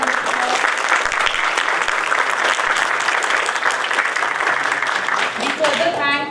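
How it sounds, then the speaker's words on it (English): Audience applause at a panel discussion on induction furnaces in the Indian steel industry, a steady, dense round of clapping that holds evenly for several seconds before tapering near the end. "Please give a huge round of applause."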